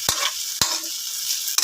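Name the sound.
sautéing taro (gabi) in a pan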